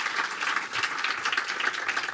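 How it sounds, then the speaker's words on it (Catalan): Steady, dense applause from a seated audience at a welcome ceremony, honouring a jury; many hands clapping continuously at an even level for a couple of seconds, with no voice on top. "Un fort aplaudiment per ells, novament."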